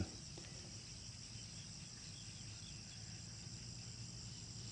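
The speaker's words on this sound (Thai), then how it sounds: "ฟังเสียงเขียด" Frogs and insects call steadily in the evening outdoors while someone eats a meal of beef hotpot with jaew dipping sauce at sunset; a dense, continuous chorus of chirps and trills, moderately faint and even throughout, with no talking.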